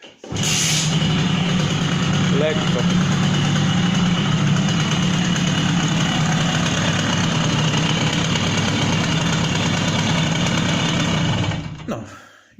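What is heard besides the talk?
two-stroke moped engine starting and idling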